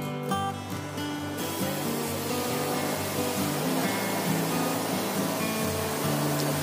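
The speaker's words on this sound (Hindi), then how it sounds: "वैक्यूम क्लीनर का साउंड बहुत ज्यादा होता है" A steady, loud whirring drone of a Philips PowerPro Compact bagless vacuum cleaner running continuously in a home, with a constant motor hum and airy noise throughout.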